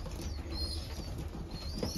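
Racing pigeons in their loft give soft, low cooing over a faint ambient hum, with a light flutter of movement, close but quiet.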